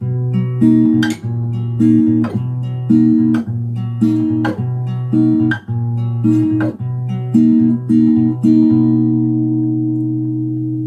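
A fingerpicked guitar pattern from the intro of a song: bass notes alternating with plucked upper strings in a steady, repeating rhythm, played alone and ringing out at the end.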